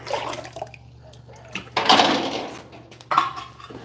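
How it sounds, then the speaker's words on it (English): A metal water can that sits by a blacksmith's anvil is filled from a tap, with splashing, rushing water and metallic clanks that swell and then return in a second loud burst, heard up close. "Fill it with water."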